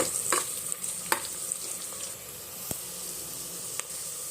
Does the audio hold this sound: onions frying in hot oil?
yes